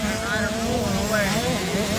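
A motocross dirt bike engine drones as it pulls away on a track during a race, a steady buzzing note at moderate distance with a commentator talking over it.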